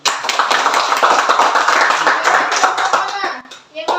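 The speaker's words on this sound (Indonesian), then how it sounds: "Kita beri aplaus dulu." A classroom group gives a round of applause, many hands clapping in a dense, lively burst for about three seconds before trailing off, with a few children's voices mixed in.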